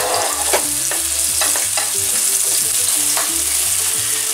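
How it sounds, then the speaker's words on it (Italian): Onion fries in olive oil for peppers and eggs, giving a steady close sizzle broken by repeated scraping strokes of a spoon stirring in the pan. "Andiamo ad aggiungere la cipolla, lasciamola dorare qualche secondo, continuando sempre a mescolare perché non voglio che bruci"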